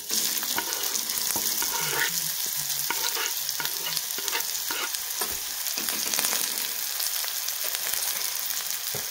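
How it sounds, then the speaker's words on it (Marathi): Onions sautéing in hot oil until browned, a steady close sizzle with frequent scraping and tapping from stirring, and no talking. "आणि कांदा आपल्याला छान असा ब्राऊन कलर होईपर्यंत परतून घ्यायचा आहे."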